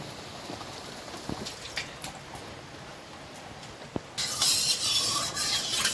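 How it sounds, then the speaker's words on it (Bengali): Rain falls outside a kitchen in the Sundarbans while food is cooked, a soft steady hiss that swells into a louder, denser wash of rain after about four seconds. "বৃষ্টি চলছে বাইরে"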